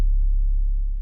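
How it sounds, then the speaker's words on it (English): A standard sub 808 bass note with no plugins, a deep, loud low-end boom with a quick attack that holds and slowly decays over about a second. "this is just a standard sub 808"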